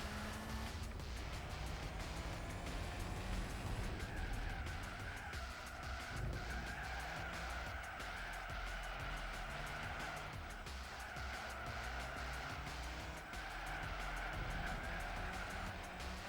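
Supercar engines drone steadily with tire squeals in a Gran Turismo 4 race, a continuous moderately loud roar as a McLaren chases a Mercedes.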